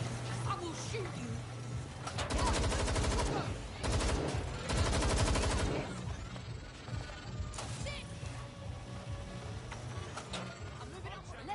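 Gunfire in Watch Dogs Legion, with two long, loud bursts of rapid automatic shots, then sporadic quieter shots and clanks, while a voice talks faintly in the background.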